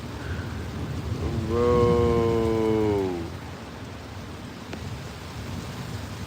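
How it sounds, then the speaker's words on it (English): Heavy rain pouring during a summer thunderstorm, a steady close hiss throughout, while a long low droning tone swells and fades midway and someone briefly speaks. "this shit is raining hard as fuck"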